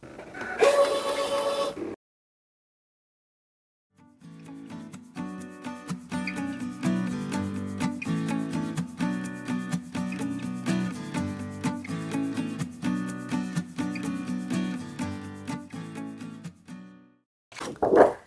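A ScanNCut cutting machine cuts a card design with a steady whirring motor and rapid rhythmic ticking steps, running continuously at moderate volume after a brief beep and pause.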